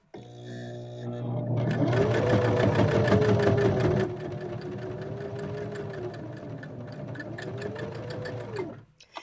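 A sewing machine runs a continuous top stitch, a steady fast mechanical whir with rapid needle clatter, loud and close for most of the stretch before stopping near the end.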